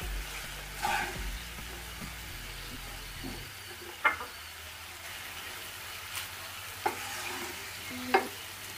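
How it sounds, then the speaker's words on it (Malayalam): Kanthari chilies fry in hot oil for a homemade pickle, a faint steady sizzle with a few soft clicks of a spoon scraping as they are lifted out. "കാന്താരി മുളക് ഇത് എണ്ണയിലിട്ട് നന്നായിട്ട് ഇത് വറുത്ത് കഴിഞ്ഞു."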